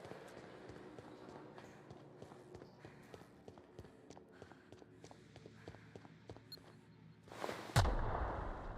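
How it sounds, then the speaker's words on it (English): A sudden explosion blasts near the end in The Outer Worlds video game, a sharp loud boom with a rumbling tail, preceded by scattered footsteps and clicks. "Why was there an explosion?"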